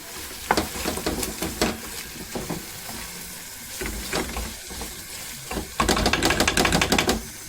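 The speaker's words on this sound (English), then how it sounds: "Potatoes are diced, and we are going to pop them in the curry mixture. Here we go. Stir thoroughly." Diced potatoes are stirred into a sizzling curry mixture in a pan for aloo gobi. A spoon scrapes and clatters in irregular bursts over a constant frying hiss, loud and close, with a busier run of scraping near the end.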